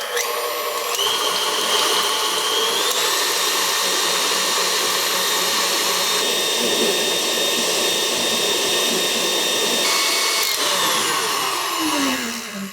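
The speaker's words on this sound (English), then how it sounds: "so we have our stand mixer here. We are going to put our egg whites in here. A ton of egg whites. And we're going to start out beating them until they're foamy." Stand mixer whipping a large batch of egg whites until foamy, a loud, continuous high motor whine with a whirring beater that holds steady and then winds down at the end.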